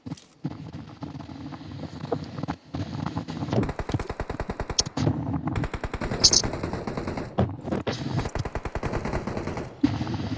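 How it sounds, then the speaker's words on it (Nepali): Gunfire in a shooting video game, bursts of rapid automatic fire crackling in quick rattling runs with brief gaps between them, loud and close throughout. "त्यसले हानिरहेको छ मलाई"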